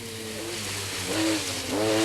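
MG Metro 6R4 rally car at the 1985 Lombard RAC Rally, its engine revving loudly on a forest stage, pitch rising and falling as it accelerates between gear changes, close and continuous.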